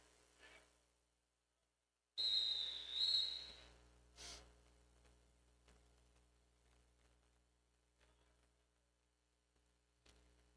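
A referee's whistle starts a roller derby jam at a bout between Beehive Skate Revolution and High Altitude Roller Derby, one sharp shrill blast that fades into a quiet, hissy hall with faint clatter, no talking.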